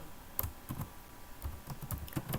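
Computer keyboard keys clatter in quick, uneven bursts as Python server socket code is typed, close and fairly quiet, with no talking.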